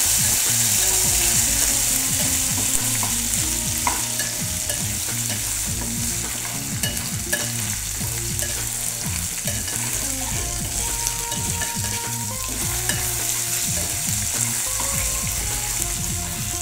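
Ginger garlic paste sputtering in hot oil on low heat: a loud, dense, unbroken crackle and hiss with fast rattling pops, steady throughout and close, no speech.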